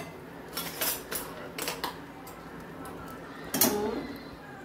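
A very hot pot of paneer bhapa lifted down from the stove with metal tongs, several light metallic clinks and scrapes, one sharper clank near the end, with faint voice in the background.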